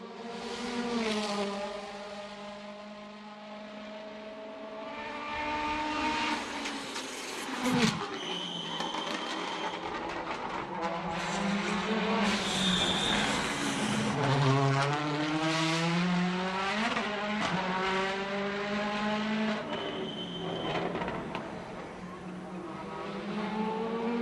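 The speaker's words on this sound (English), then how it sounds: "Fabulous sound as we listen to the Volvo S60." A Volvo S60 touring race car at the Macau street circuit, with a loud, close engine note that rises and falls through repeated gear changes, punctuated by sharp shift cracks and sustained high revs.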